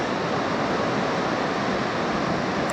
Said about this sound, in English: let's cut to the surf